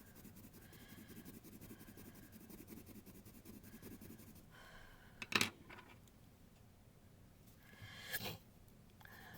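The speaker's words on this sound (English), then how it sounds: "You'll have to excuse my sniffling." A person with a cold gives two short, breathy sniffles a few seconds apart, quiet and close, during an art-supply unboxing. Faint scratchy scribbling is heard before them.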